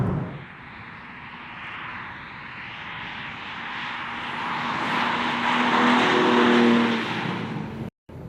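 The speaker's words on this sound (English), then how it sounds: "The engine sounds great on the inside." The engine of a 2021 BMW M3 Competition is heard from inside the cabin, a steady droning growl that gradually swells and rises in pitch as the car accelerates, then briefly cuts out near the end.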